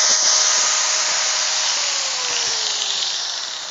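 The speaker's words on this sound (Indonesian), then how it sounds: "Sudah saya gerinda ini." A grinder cutting a metal plate during a two-door refrigerator condenser repair: a loud, steady, close hiss with a whine that slowly drops in pitch, no talking.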